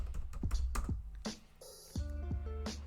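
Someone types vi commands on a computer keyboard in a Linux CentOS 8 terminal. A handful of separate, close keystrokes are clicked out at an uneven pace, with brief pauses between them.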